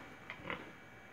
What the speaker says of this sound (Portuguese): É javali com porco comum.